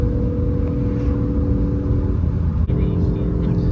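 A 2015 Subaru WRX STI with a Stage 2+ EWG tune pulls from inside the cabin, engine droning steadily and rising, with a brief click partway through.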